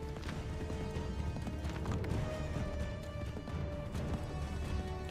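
Horse hooves clip-clopping at a steady gallop in Assassin's Creed 3, a rhythmic, continuous thudding over a dense game soundtrack, with a brief whinny.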